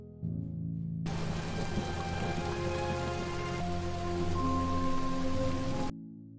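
Heavy rain pours down in the animated film Minuscule, a dense steady hiss of drops drumming on surfaces that starts suddenly, holds for several seconds alongside soft sustained musical tones, then cuts off.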